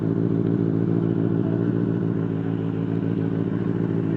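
A Benelli 600i motorcycle fitted with an IXIL exhaust holds a steady, loud idle close by, its low, even engine note running throughout with no voices.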